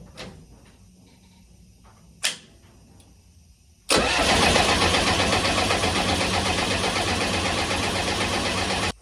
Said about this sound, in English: Let's crank again.